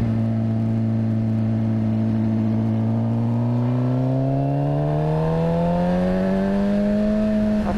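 A Suzuki GSX-R sportbike engine drones steadily through curves, its pitch climbing smoothly as the rider accelerates in third gear, loud and close with constant wind rush and no talking.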